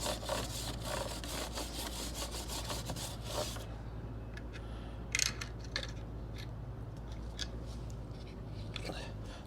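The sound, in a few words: stiff-bristled brush scrubbing a Ducati Monster 696 motorcycle chain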